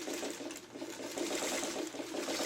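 A sewing machine fitted with a 1/4 inch foot stitches around a small appliqué quilt block, giving a steady, close mechanical whir with a fast, even motor rhythm throughout.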